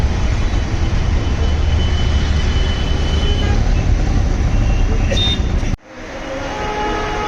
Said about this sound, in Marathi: समोर दिसतंय ते हायवे आहे